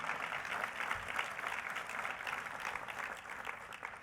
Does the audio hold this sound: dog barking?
no